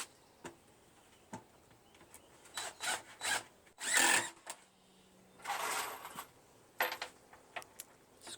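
A countersink bit bores into screw holes in wood during box assembly, giving several short whirring grinds in uneven bursts, each separated by quiet pauses.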